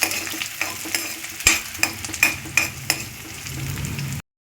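Onions sauté in a pan with a steady, soft sizzle, broken by a series of sharp scraping clinks from a spoon stirring at irregular intervals; no one speaks, and the sound cuts off abruptly at the end.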